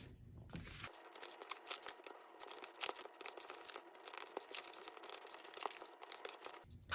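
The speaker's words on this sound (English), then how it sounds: "we're going to fold a horizontal center line and fold from edge to center line in each direction" Cardstock paper is folded and creased into an origami gift box, producing quiet, close crinkling and rustling that runs steadily for several seconds.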